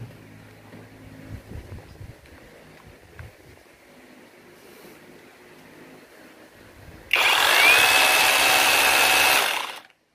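A Makita cordless hammer drill spinning up after quiet handling noises, giving a loud, steady high motor whine that holds for about two seconds before cutting off.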